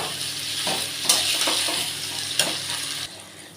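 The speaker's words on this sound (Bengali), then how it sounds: "এবার আমি গাঠিটাও দিয়ে আমি ভালো করে আবার কষিয়ে নেব।" Taro stems stirred and sautéed in hot oil with spices, a steady close sizzle broken by a few sharp scraping clatters of the spatula against the pan.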